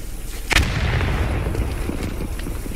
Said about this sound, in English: Grenades through the windows